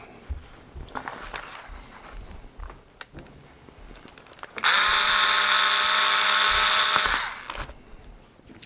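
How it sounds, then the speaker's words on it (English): Power screwdriver whirring steadily for about two and a half seconds while backing screws out of the bridge plate on a Squier Contemporary Strat, with faint handling clicks and rustles before and after. "At this point, I'm going to just take off the existing screws."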